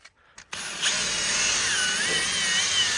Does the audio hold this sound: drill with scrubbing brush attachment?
yes